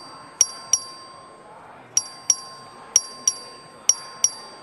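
The voting bell in the Texas House of Representatives chamber sounds as short, sharp, high metallic dings in spaced pairs, four pairs in all, over a quiet hum of the chamber.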